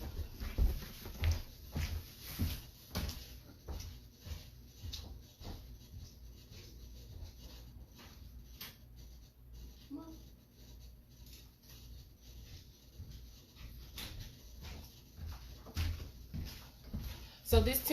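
Faint indoor dog sounds with soft whimpers, scuffling and scratching from a dog being let in, heard quietly among scattered handling noises and brief thumps.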